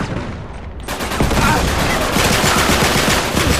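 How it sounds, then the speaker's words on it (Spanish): Rapid, loud automatic gunfire in the video game Uncharted 3 begins after a brief quieter moment and then keeps going as a steady rattling burst, with no talk over it. "Ah, me van disparando."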